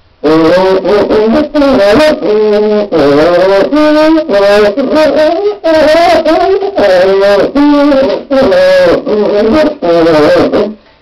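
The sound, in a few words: cuíca pitch bent by pressing head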